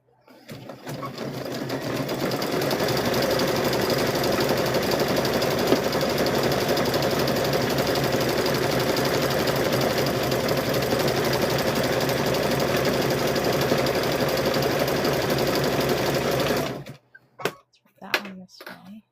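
A sewing machine stitches coiled rope for a rope bowl, running continuously and loud for most of the stretch, then stopping abruptly and leaving a few scattered clunks and handling noises.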